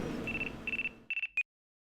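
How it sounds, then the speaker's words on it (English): A phone rings in the video game Ace Attorney Dual Destinies, with short bursts of electronic trilling beeps in quick groups, clear and close, ending abruptly into silence. "Pardon me. Looks like I have a phone call."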